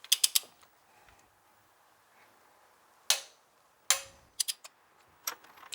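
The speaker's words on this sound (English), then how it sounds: "Torque wrench." Torque wrench ratcheting on a Suzuki Jimny during an engine service in a workshop, sharp clustered clicks at the start, then near silence before several more distinct close ratchet bursts.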